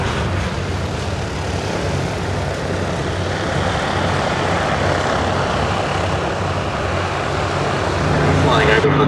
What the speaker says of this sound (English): Final pass for the H-75 coming up. Pratt & Whitney twin Wasp radial engine.